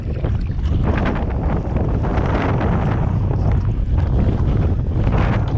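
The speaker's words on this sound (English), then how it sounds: "wind was getting so bad" Strong wind buffeting a kayak angler out on Lake Tenkiller, a constant loud rushing roar with heavy low rumble across the whole stretch, no talking.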